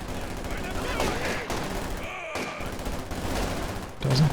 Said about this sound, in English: Sniper free to let rip.